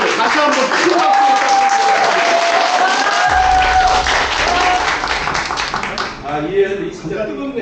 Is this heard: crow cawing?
no